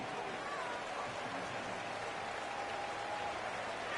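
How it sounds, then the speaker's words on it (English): Stadium crowd cheering in the college football video game NCAA 26, a steady wash of roaring, applause-like noise at moderate level, with a soft hiss and faint babble underneath. "Obviously, this crowd cheering."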